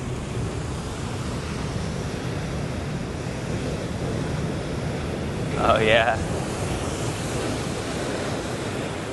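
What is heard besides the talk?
large ocean waves on a shore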